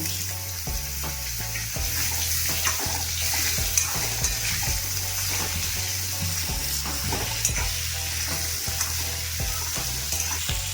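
Cut mango pieces cook in a pot for sour mango dal, with a constant bubbling sizzle and a low steady hum under repeated stirring knocks and scrapes.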